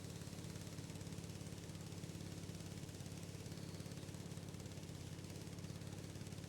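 A farm mower's engine runs steadily in Farming Simulator 19, a continuous even drone with a low rhythmic pulse, close and constant with no talk over it.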